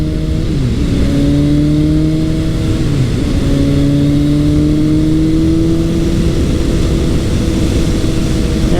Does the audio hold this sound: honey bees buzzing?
no